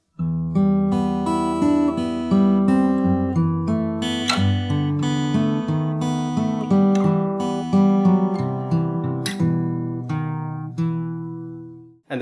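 Fingerstyle acoustic guitar plays a full section of a slow, melancholy piece, with steady plucked notes and chords ringing close and clear for about twelve seconds, no voice over it.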